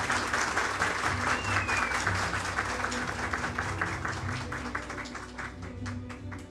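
Sustained applause from a crowd at a public building opening ceremony, a dense, steady wash of many hands clapping at a moderate distance, continuing throughout without pause.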